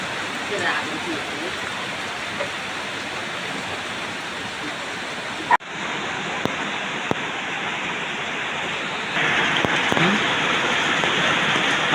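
Steady rain pouring down at a construction site, a dense continuous hiss that briefly drops and then swells louder near the end, with a few sharp knocks over it.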